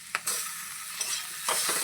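Banana flower curry with chopped tomato being stirred and fried in a pan, with a steady sizzle and a few sharp scraping strokes of the spoon breaking through, close and without any voices.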